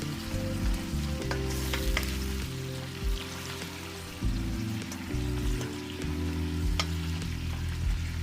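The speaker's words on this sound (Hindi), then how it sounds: "प्याज शामिल करने के बाद इसे 2 मिनट के लिए फ्राई कर लेंगे" Sliced onions fry in oil in a large pan with a continuous sizzle and scattered crackling pops, while a low tonal hum sits underneath and no one speaks.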